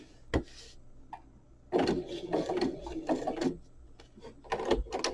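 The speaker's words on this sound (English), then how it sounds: "I'm going to stitch, let's see, let's put a stitch here." A sewing machine stitching through fabric while an envelope is sewn, with short bursts of mechanical whirring and clicking broken by pauses and a sharp click near the start.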